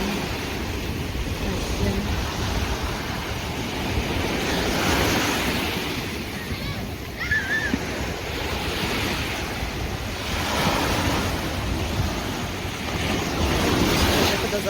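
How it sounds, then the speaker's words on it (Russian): Sea waves at a Red Sea resort in Sharm el-Sheikh wash in continuously, with surges building and receding under steady wind noise. "Вроде бы ветра нет, а почему-то волны такие хорошие."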